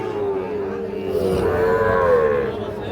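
A Sahiwal bull calf, five to six months old, moos in a long, drawn-out call close by at a cattle market, rising and falling over steady background noise.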